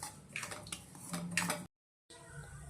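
Broken wheat lapshi being stirred and roasted in ghee in a pan, with scraping and clinking of a spoon against the pan in irregular strokes, a brief silent gap, then quieter stirring.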